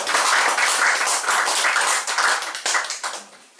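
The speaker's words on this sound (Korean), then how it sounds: "상임대표님 큰 박수로 모시도록 하겠습니다" An audience at an indoor lecture gathering gives steady, dense applause welcoming a speaker, a continuous close patter of many hands that fades toward the end.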